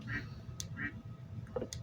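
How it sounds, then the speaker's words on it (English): Quacking duck sound effect from a bird video game, two short nasal quacks in quick succession followed by a fainter call, over a low game background. "I don't know if that duck noise is copyrighted"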